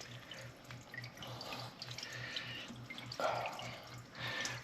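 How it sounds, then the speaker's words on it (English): Fuel trickles into the carburetor of an old tractor that has sat parked for years, a faint, steady liquid pour with small splashes and drips, close up and quiet. "There we go, fill the carburetor up."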